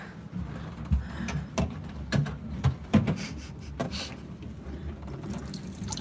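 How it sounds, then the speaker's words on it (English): Water is poured into a glass at home, with uneven splashes and drips sounding in bursts over a low background murmur. "So I'm gonna get some water."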